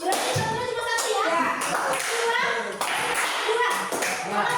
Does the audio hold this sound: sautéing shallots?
no